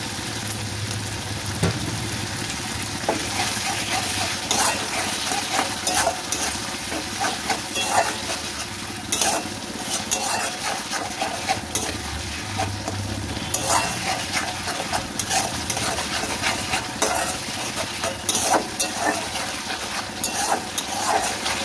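Katla fish curry masala with yogurt sizzles and spits as it is stir-fried in a pan, a steady dense frying hiss with scattered crackles and stirring noises throughout, close and moderately loud.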